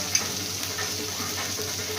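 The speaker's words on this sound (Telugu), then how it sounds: "ఉల్లిపాయ ముక్కలు వేగుతున్నాయి." Onion pieces frying in a pan, a steady even hiss of sizzling oil that holds at the same level throughout, close by and moderately loud, with a single tiny click near the start.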